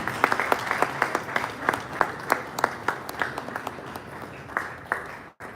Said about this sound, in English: Please, a round of applause for him as he takes the podium.